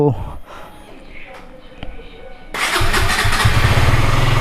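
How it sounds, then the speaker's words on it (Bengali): A KTM Duke motorcycle is cold-started: a quiet stretch with faint handling noises, then the engine catches about halfway through and settles into a loud, steady idle. "চলো বাইকটাকে কোল্ড স্টার্ট দেওয়া যাক।"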